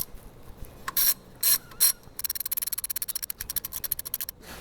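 A ratchet snugs the alternator bracket bolts on a Mercedes Sprinter: three short bursts of rapid clicking, then a long, steady run of crisp close clicks before stopping.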